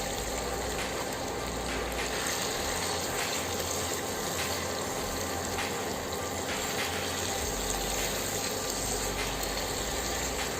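A little water is poured into fish cooking in a pan for a bhuna curry, producing a steady hissing, sizzling gush that continues evenly and fairly quietly without speech.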